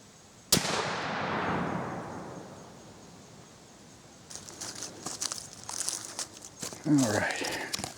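A Thompson Center Shockwave muzzleloader fires a 250-grain bullet outdoors: one sharp, loud shot followed by a long rolling echo that fades over seconds, then faint rustling and handling noise.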